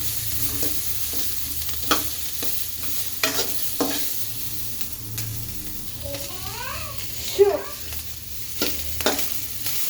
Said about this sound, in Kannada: ಹಸಿ ವಾಸನೆ ಹೋಗೋವರೆಗೂ ಫ್ರೈ ಮಾಡ್ಕೊಳ್ಳಿ.